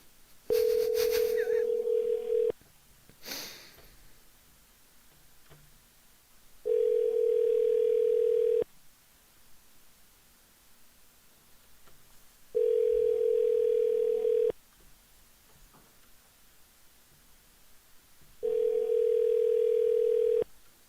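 A telephone ringback tone sounds in four long, evenly spaced steady beeps separated by quiet gaps, heard while calling in to a live show, with faint line noise between rings.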